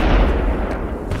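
A grenade blast in the video game FEAR, one loud, deep, booming burst that rumbles and fades over about a second, close and heavy.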